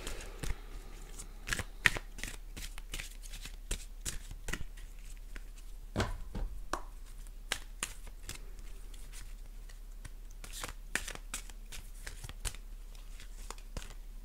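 A Wisdom of the Oracle card deck is shuffled by hand, giving repeated crisp riffling flicks and soft card slaps in quick irregular bursts, close and quiet, with no one talking.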